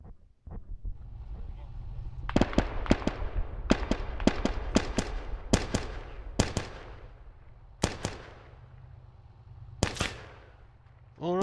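Gunfire in the Stalingrad battle game Heathen Day of Competition, with a cluster of sharp, loud shots and bursts early on, then sparser single reports spaced apart over a low steady rumble.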